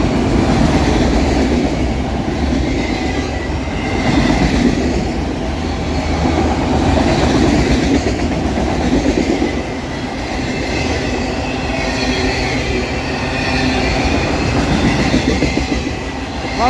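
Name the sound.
empty freight train passing, heading west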